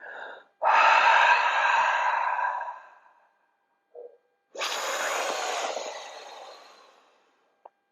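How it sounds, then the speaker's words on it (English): Two long, deep exhalations during a breathing exercise, each a loud, breathy rush that slowly tapers off, separated by a short quiet pause, with no talking. "remember to do a good out breath"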